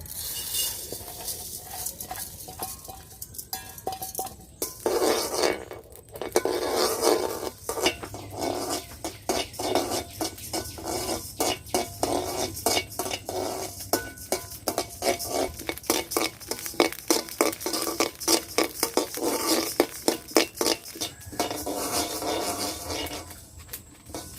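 Rice dry-roasting in a pan for coconut naru, stirred constantly with a utensil: a steady rapid scraping and rattling of grains against metal, close and continuous with no talk.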